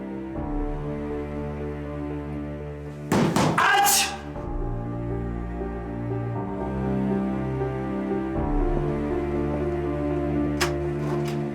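Someone bangs on a locked door, a cluster of heavy thuds lasting about a second, muffled under dramatic background music, followed by a few faint taps.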